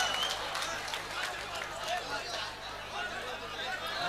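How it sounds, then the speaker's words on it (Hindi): An audience applauding at a mushaira, an Urdu poetry recital, with scattered clapping and crowd murmur mixed with spoken voices at a steady, moderate level. "भाई तालियों से इस्तकबाल करें दोस्तों"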